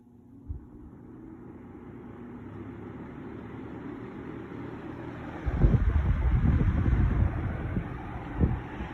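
A 1998 Weatherworks 20-inch box fan, sitting on a wooden chest, whirs steadily on its low setting with a soft broadband airflow hum, growing slightly fuller partway through, with a couple of faint bumps.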